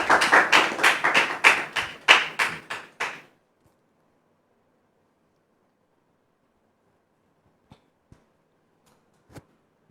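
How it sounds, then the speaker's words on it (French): An audience claps in quick, evenly spaced bursts to welcome a guest to the front. About three seconds of loud, rhythmic clapping stop abruptly, followed by near silence with a few faint knocks. "Cédric Arnaud, sous vos applaudissements, s'il vous plaît."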